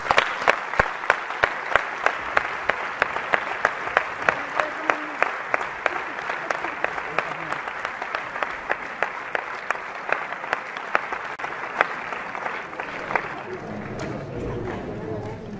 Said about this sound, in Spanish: y ahora vamos a recibir con un fuerte aplauso a Yolanda.